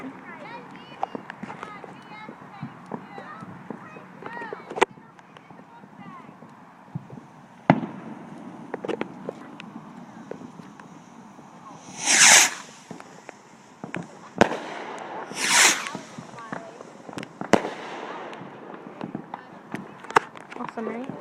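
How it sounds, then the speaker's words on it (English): Big firework sticks are lit and burst overhead, giving a few sharp cracking explosions spaced several seconds apart over an outdoor scene with people talking and moving around, the blasts loud against the quieter background. "They're big sticks that he's lighting, and they're gonna blow up in the air."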